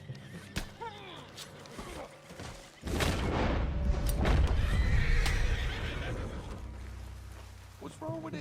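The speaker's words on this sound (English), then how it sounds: "What's wrong with this horse?" A horse in the western video game Red Dead Redemption 2 whinnies near the start, then hooves clop and shuffle loudly amid creaking gear, with another short neigh near the end and no speech.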